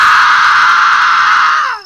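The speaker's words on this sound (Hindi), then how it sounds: "एक जोरदार चीख के साथ मुखिया पानी के अंदर समा गया।" A man lets out a loud, sustained scream as he drowns in the water of a stepwell in a Hindi horror story. The cry is close and strained, holds steady for nearly two seconds, then cuts off sharply.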